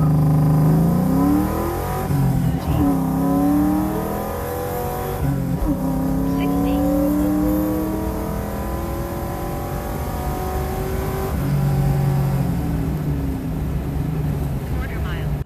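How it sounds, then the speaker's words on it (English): A 2001 Ford Mustang GT with full bolt-ons accelerates hard through several gears, its loud, close V8 note rising and dropping at each shift across a sustained run. "Those are the draggy runs with the 2001 Ford Mustang GT with full bolt-ons"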